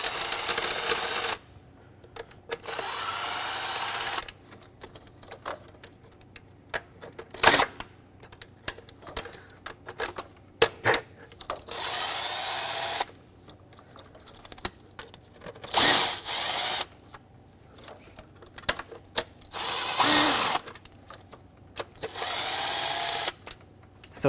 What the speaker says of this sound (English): now let's remove the bolts completely